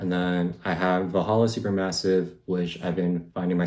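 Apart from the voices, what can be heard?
None of the usual background noises is heard.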